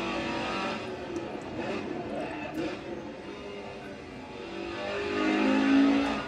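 A car engine revs in a racing video game on a motion simulator rig. The drone runs steadily, then climbs to a louder, rising whine near the end, with a voice talking over it.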